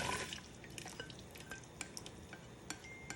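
A mixture is poured and stirred into cabbage cooking in a pan for rumali vadi, giving a steady close sizzle with wet stirring scrapes and small clinks throughout, and no voices.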